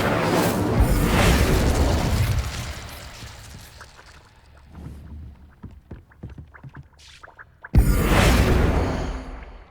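An Incendio fire spell cast in Hogwarts Legacy: loud whooshing, roaring fiery bursts at the start, a quieter stretch of scattered crackles and pops, then another strong blast of flame near the end.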